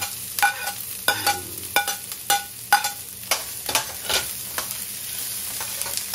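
Ginger, garlic and onion fried together in a pan, with a soft sizzle under repeated sharp scrapes and clinks of a utensil stirring, spaced irregularly and heard close up without talk.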